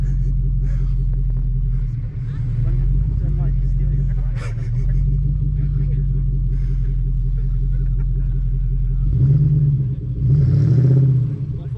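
A four-wheel vehicle stuck in snow on a farm holds a deep, steady engine rumble, then revs up louder twice near the end as its wheels spin. The engine is close, with voices faint underneath.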